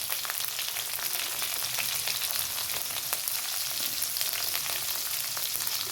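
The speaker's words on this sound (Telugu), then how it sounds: "ఇప్పుడు వేగనిద్దామండి." Green chilies and onions fry in oil for a kala chana recipe, making a constant close sizzle with small crackles and stirring sounds that run steadily without a break.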